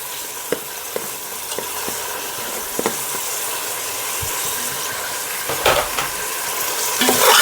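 Mint and coriander leaves fry with tomatoes in a pan for Andhra-style bagara rice, giving a steady close sizzle and hiss with occasional stirring scrapes and clinks, louder bursts near the end.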